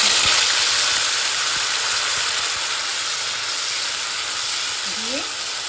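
Pasted onion, ginger and tomato hit hot oil in a pan and sizzle steadily, a close, dense hiss that holds at an even level throughout, with a faint clatter near the end.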